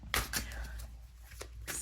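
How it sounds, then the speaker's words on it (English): Tarot cards are shuffled and pulled by hand, giving a few quick riffling flicks and soft slides, close and quiet. "Let's pull a couple more cards and see whatever else I get here."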